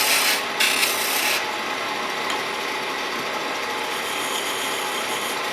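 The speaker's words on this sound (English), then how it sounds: "I'll bring this down to straight again and make another taper" A woodturning lathe tool cuts a taper on a spinning wooden box, giving a steady close scraping hiss with brief brighter bursts at the start and no talk.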